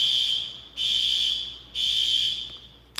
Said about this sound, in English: somebody alarm done went off